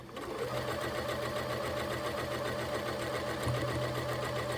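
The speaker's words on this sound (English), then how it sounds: "I'm just going to sew this on this border." A sewing machine runs in one continuous steady hum while stitching a border onto a quilt, close and fairly quiet, with no pauses.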